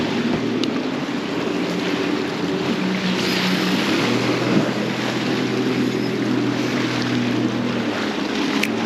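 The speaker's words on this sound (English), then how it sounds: "Another guide boat going out for a crab trip." A crab-fishing guide boat's motor drones steadily as it passes off the Winchester Bay jetty, with wind and water noise around it and no talking.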